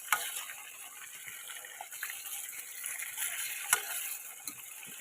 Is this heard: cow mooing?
no